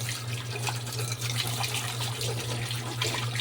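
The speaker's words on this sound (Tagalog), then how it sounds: "Banlawan natin maayos." Running tap water pours steadily into a sink as washed dishes are rinsed after dishwashing liquid, a constant close splash and gurgle with no talking.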